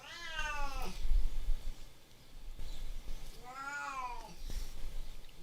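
A pet cat lets out two loud, drawn-out meows a few seconds apart, close by, with quiet room noise in between.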